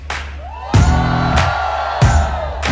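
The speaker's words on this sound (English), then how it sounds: "A big round of applause, ladies and gentlemen, to the panel on stage" A large audience cheering and clapping for a panel on stage at a live talk event, bursts of whoops and shouts rising in waves over clapping.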